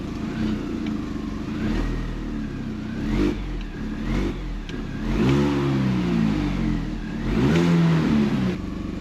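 A Mini car engine, first started after repair, revs up and down in several surges, throaty and close, with no talking.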